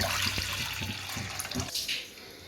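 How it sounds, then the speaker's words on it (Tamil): Water splashes into a pressure cooker set on a stove, a continuous nearby pour with knocks and gurgles for almost two seconds before it thins out and fades, with no voices. "இப்போ அடுப்பு ஒரு குக்கரை வச்சு அது கொஞ்சம் தண்ணி சேர்த்துக்கலாம்"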